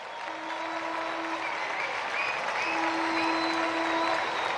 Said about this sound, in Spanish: Aplausos y preparados.